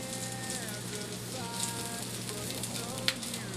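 Sausage frying in a skillet, a steady close crackling sizzle with a light spattering texture and one brief sharp pop near the end, no speech.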